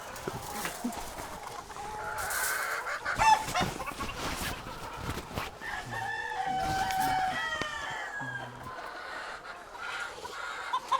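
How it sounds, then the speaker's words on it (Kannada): Native country chickens cluck on a Karnataka poultry farm holding hundreds of birds while a rooster crows midway, all over a steady, busy farmyard background. "ಇಲ್ಲಿ ಕೋಳಿಗಳು ನೋಡ್ತಾ ಇರ್ಬೋದು, ಹಲವಾರು ಕೋಳಿಗಳು"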